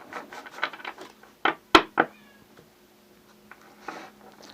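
A curious house cat meows indoors, a run of close, fairly loud calls in quick succession, then a few fainter ones after a pause, with a sharp knock on wood between them.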